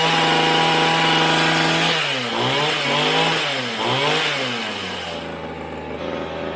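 A restored small two-stroke engine with adjusted air mixture screws runs loud and close, revving up and down in several quick bursts before settling back to a steady idle.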